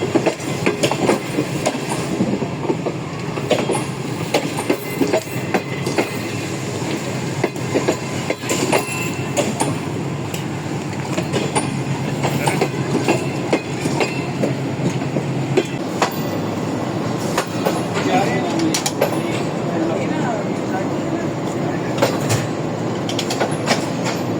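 Pak Business Express train on its inaugural run, led by a GU40 locomotive, rolls steadily on the rails with a loud, continuous rumble, rhythmic wheel clatter and occasional sharp clicks throughout.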